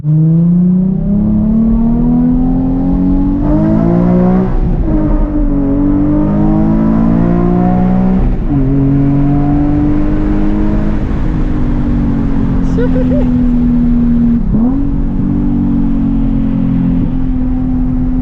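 A bone-stock Nissan 350Z HR engine drones and revs steadily during a drive, pitch rising and falling through shifts, with faint voices underneath.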